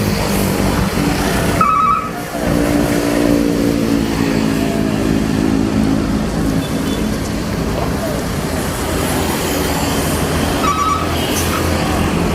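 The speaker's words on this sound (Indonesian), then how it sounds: "segera berangkat bus julukan Kota Budaya menuju Pulau Jawa sana" A large bus engine idles and rumbles steadily at close range before departing for Java, a continuous low drone with faint voices in the background.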